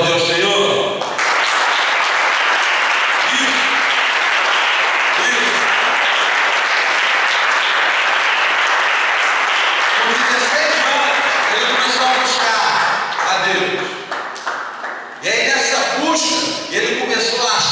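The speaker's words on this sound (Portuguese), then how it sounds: "Você pode aplaudir ao Senhor?" A church congregation applauds loudly and steadily for most of the stretch, a dense wash of clapping that thins out near the end as voices come through.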